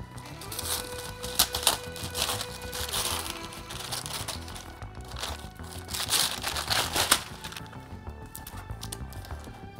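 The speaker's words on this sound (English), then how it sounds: "Got a rip in it already, let's just rip it open." A used, already-torn Hasbro action figure box is ripped open for unboxing, with steady crinkling and tearing of cardboard and plastic packaging that rises in a few sharper bursts over about ten seconds.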